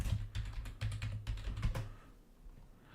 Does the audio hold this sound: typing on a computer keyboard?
yes